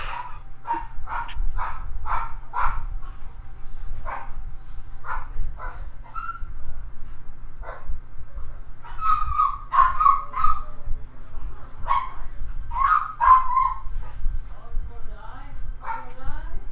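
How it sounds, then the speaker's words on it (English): Cartoon dogs barking in the JumpStart 3rd Grade computer game: a run of quick, repeated barks followed by scattered yips and whimpery cries, with voices talking and a low background hum. "At least the dogs have stopped barking."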